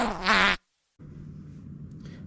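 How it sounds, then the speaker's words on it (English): A Boge workshop air compressor's faulty safety valve releases air too early, a loud raspy sputtering burst that cuts off abruptly, followed after a short silence by a lower steady hiss and hum. "this is the safety valve from our compressor"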